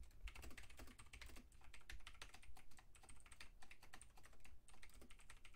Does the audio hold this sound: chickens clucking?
no